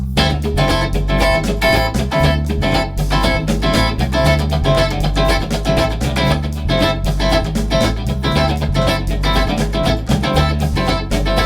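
Funky rhythm guitar strums along with a full band at about 120 beats per minute, bass and drums driving a steady, continuous groove at moderate loudness.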